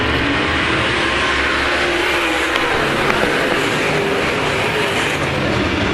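Late model race cars roar around the dirt oval at Brownstown Speedway, a loud continuous rumble of engines from the pack with a steady crowd-and-track wash and no clear talk.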